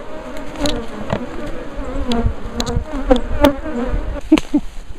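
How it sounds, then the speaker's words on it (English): Bees buzz close around a hive in Jamaica, a dense insect drone with individual bees passing near the microphone in louder swells, no talk. "Don't move too fast around the bees."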